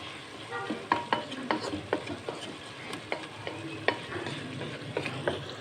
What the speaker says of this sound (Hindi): इसको थोड़ा सा हम घी में पकाएंगे मसाला जात को